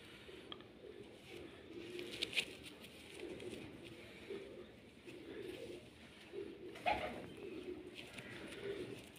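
Soft pigeon coos repeat over a low outdoor background, fairly distant, with occasional faint rustling.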